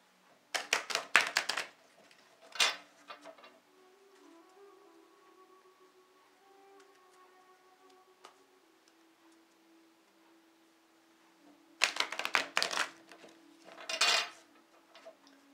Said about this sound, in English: So I'll go ahead and shuffle the cards and we'll begin.